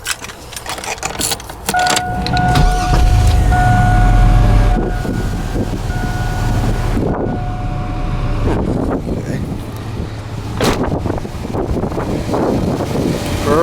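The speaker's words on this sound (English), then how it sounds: "Start the car up." A Chevy Blazer's 4.3 V6 engine, fitted with a new fan and fan clutch, starts and settles into a steady idle, with gusty wind buffeting the microphone and some clinking handling noises.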